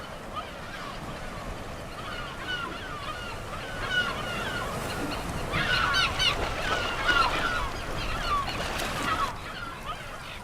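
Kelp gulls call over the water at Seal Island off Cape Point. A dense chorus of harsh cries carries through a broad wash of wind and surf, swelling louder around the middle of the stretch.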